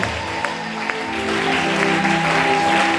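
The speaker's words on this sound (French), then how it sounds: "Acclame Jésus avec tes deux mains." A church congregation clapping together to acclaim Jesus: sustained, dense applause that swells and holds steady under a sung or musical backdrop with a tonal hum, loud and close.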